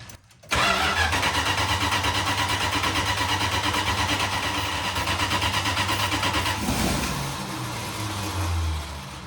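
An old, long-abandoned mural van's engine cranks steadily in a rapid rhythmic churn for several seconds, close and loud, then slows and stops without catching.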